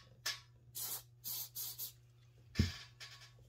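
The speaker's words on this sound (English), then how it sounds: "Take a little bit of your spray." Spray applied during scroll-saw basket glue-up: several short hissing bursts from a spray bottle, close and fairly quiet, separated by brief pauses, with a small knock partway through and a low hum underneath.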